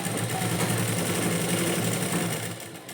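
A sewing machine stitches along a blouse lining, running as a steady, continuous motor hum with a fine rapid rhythm, close and fairly loud, easing off slightly near the end.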